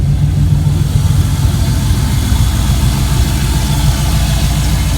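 A Nissan 240SX S14 drift car with a swapped LS1 V8 idles steadily and loudly at close range with a low, even rumble and no voices.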